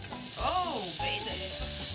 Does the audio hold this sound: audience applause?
no